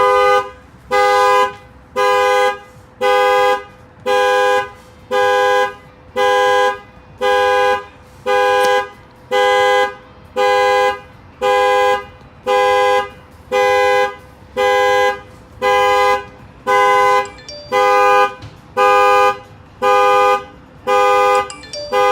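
A car horn sounds in a long regular series of loud, even honks, roughly one per second for over twenty seconds, as a Linkr LT1 alarm unit is armed; nothing else is heard.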